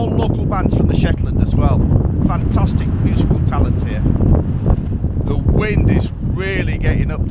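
Strong wind buffets the microphone on the Shetland Islands as a loud, continuous rushing roar, while people talk close by throughout.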